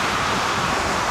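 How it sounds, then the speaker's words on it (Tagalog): Strong wind gusts at Dampalit Falls in Los Baños, Laguna, buffeting the microphone in a dense, continuous roar over a single second. "Lakas ng hangin."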